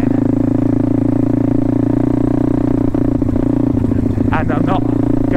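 A small pit bike engine drones loudly and steadily, then its pitch wavers and shifts as a gear changes using the clutch, with some clattering near the end.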